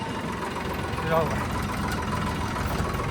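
A steady low tractor engine drone idles nearby without pause, its even rumble holding level through the short stretch.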